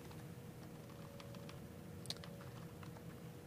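Typing on a computer keyboard, a handful of quiet, scattered key clicks over a low steady hum, faint and somewhat distant, with no talking.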